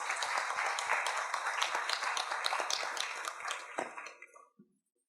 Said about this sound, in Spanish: Por favor, para ellos un fuerte aplauso.